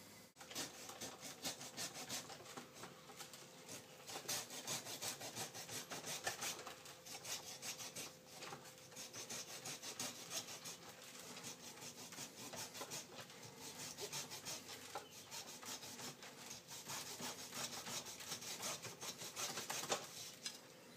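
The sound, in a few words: saw cutting a bonsai tree trunk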